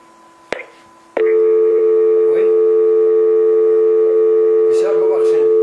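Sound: telephone dial tone after a call-in line disconnects

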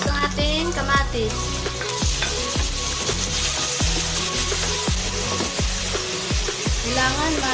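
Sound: onion and tomato sizzling as they are sautéed in a pan

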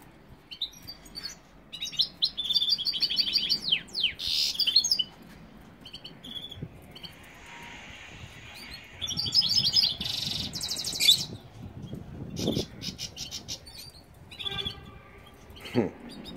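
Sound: goldfinch singing in aviary

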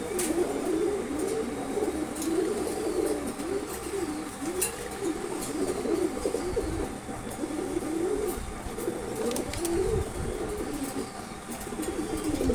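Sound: pigeon cooing

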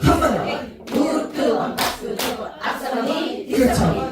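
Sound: knee slaps and hand claps in a recreation game

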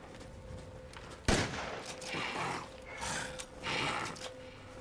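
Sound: shotgun firing in the video game Resident Evil Village

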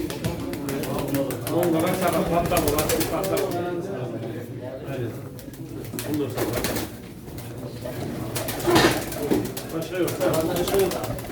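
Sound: pigeons cooing at a pigeon auction

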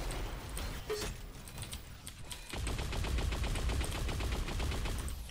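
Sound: sniper rifle shots in Unreal Tournament 4 video game

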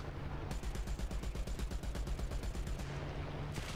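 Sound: tank gunfire at an SB2M plane in War Thunder video game

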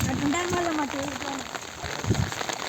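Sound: rain falling

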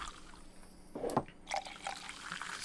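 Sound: ale being poured in a tavern video game

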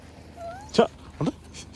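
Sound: dogs whimpering

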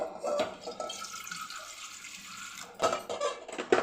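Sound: water poured in for tomato chutney

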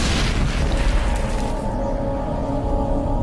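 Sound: grenade explosion in video game Mass Effect

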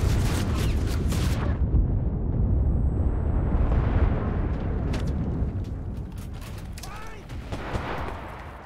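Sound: grenade explosion in video game Enlisted

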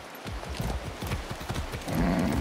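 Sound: horse hooves clip-clopping in video game Far Cry 6

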